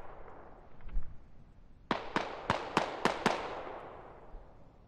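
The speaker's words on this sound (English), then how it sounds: "Shots being fired at Newell's." Gunshots in the video game Squad, a rapid run of six sharp reports with echoing tails, loud against a quiet rumbling background and no talk.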